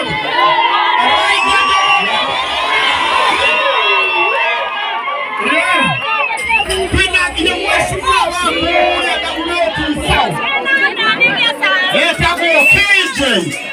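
A large crowd at a Tanzanian gathering cheers and shouts continuously, with excited children's voices and babble filling the air, loud and close throughout while an announcer calls out over the noise.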